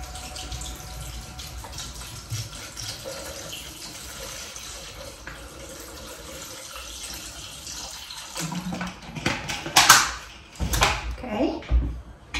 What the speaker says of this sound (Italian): Ora vado ad inserire 360 grammi di acqua.